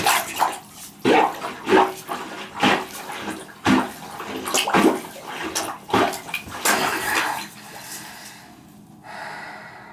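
A backed-up bathtub drain gurgles and gulps water in a rhythmic series of wet, sloshing surges about once a second, close by. The surges taper off into a quieter trickle at the end.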